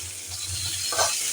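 Papaya pieces are stirred in hot mustard oil in a pan, giving a brief, close sizzle with a soft scrape of the spoon.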